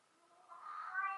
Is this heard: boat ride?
no